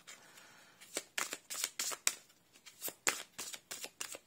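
Large oracle cards being shuffled by hand, a series of about ten crisp, riffling bursts in uneven rhythm, close and fairly quiet, with no talking.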